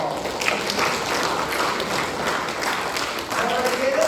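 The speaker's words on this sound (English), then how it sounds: "Give a round of applause." Audience applause in a lecture setting, a steady, fairly dense wash of clapping lasting several seconds.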